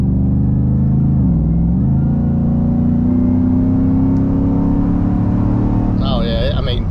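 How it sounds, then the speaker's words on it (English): Loud, steady engine drone inside a supercharged Roush Nitemare F-150 pickup, with a thin rising blower whine layered over the low rumble as it accelerates; a voice briefly joins near the end. "You can hear a little blower whine"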